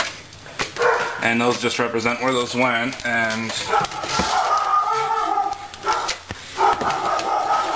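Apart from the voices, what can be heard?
dog barking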